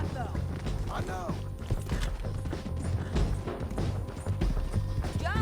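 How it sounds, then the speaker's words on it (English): Horse hooves clopping in Red Dead Redemption 2, a steady clip-clop of galloping mixed with creaking tack and game ambience, with a voice speaking over it. "Tô correndo meu cavalo aqui"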